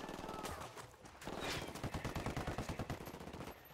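Loud, dense automatic gunfire rattles steadily through the video game Ghost Recon Wildlands, with rapid repeated shots building into a sustained volley.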